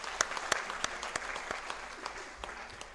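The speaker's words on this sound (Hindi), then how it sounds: "एक बार जोरदार तालियां आप अपने आप के लिए बजाइए।" A convention audience at a Rathore youth gathering in Hodal, Haryana claps in scattered, separate claps. Several sharp distinct hits stand out over a quiet room.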